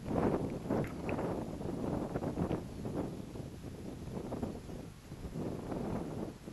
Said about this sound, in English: Okay, now we got some wind again.